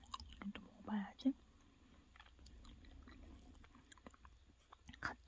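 Close, soft chewing and crunching of a convenience-store cookie and cheesecake with chocolate cream, a few louder bites near the start and small mouth noises in between, quiet throughout.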